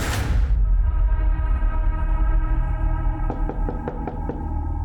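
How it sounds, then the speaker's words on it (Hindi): Someone raps on a door in a Hindi crime drama: a quick run of five or six sharp knocks near the end, heard over a steady background tone. "आलिया, दरवाजा खोलो।"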